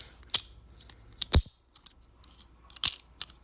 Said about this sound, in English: it's got a wonderful thunk, thunk, thunk, thunk